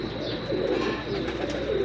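Pigeons with white eyes, including Lakha-type birds, coo close by in a soft, continuous rolling murmur, with overlapping calls throughout the short stretch.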